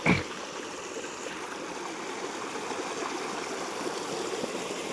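A river flows steadily past, a continuous close rush and babble of water after a brief knock at the start, with no talking.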